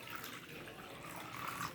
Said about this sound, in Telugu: వేసి ఇలాగా నీళ్ళు వేయండి.